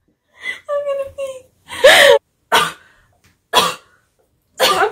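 Someone coughs hard several times in a row, each cough short and close and separated by brief silences. A whimpering, strained voice comes just before the coughing fit.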